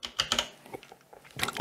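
Keys clatter on a computer keyboard as a node is renamed in DaVinci Resolve, with quick bursts of close, crisp taps, a brief pause, then another cluster of keystrokes.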